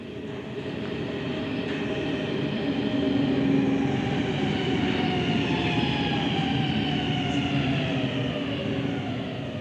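A Helsinki metro train rumbles and whines loudly as it pulls into the station, the drone easing as it slows toward a stop.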